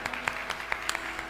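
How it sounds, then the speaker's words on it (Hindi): Audience clapping at a live Hindu religious discourse on the Ram Katha, a short burst of scattered applause with sharp individual claps spread across the crowd. "इनके लिए 2 बार ताली बजाइए"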